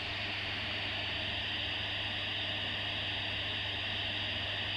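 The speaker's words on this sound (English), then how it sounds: "Just a sort of like white noise, like it's TV static" Steady white-noise static from a baby sleep device, a constant hiss with an underlying hum, close and unbroken for the whole stretch.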